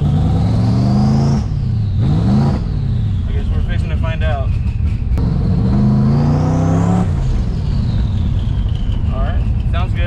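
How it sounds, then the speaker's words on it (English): A twin-turbo Mustang engine, idling rich, runs loud and close with a deep rumble and a whining turbo pitch that rises and falls as it revs, with someone talking briefly over it. "the car is idling really rich, so I'm not sure if that's why it sounds a little funny"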